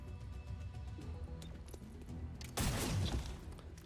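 A short burst of gunfire in the XCOM: Chimera Squad video game, aimed at an enemy trooper: a loud, dense volley erupts near the end after a quieter stretch of game ambience.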